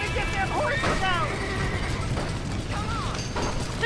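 Panicked horses whinny inside a burning barn in Red Dead Redemption, shrill rising neighs breaking through a roar of crackling noise while people shout over them.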